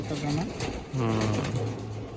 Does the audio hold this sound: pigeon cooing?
yes